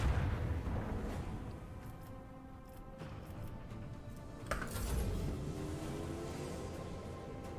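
An artillery salvo fires in the Warhammer 40k: Rogue Trader video game, a dense rumbling barrage with a sharp blast near the middle, rolling on continuously at low level.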